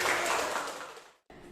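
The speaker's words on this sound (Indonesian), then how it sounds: "Tepuk tangan." A classroom of students applauds a winning group, a brief burst of clapping that fades out, cuts to silence, then picks up again faintly.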